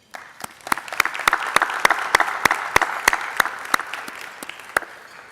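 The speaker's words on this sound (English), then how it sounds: "Please join me in a round of applause" Applause from a gala audience at an international trade dinner, sharp, close individual claps standing out over a softer wash of clapping that swells and then thins.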